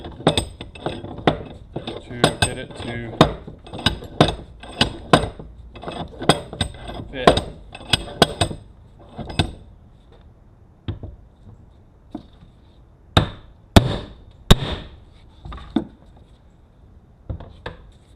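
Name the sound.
hammering on a clip, 1965 Mustang work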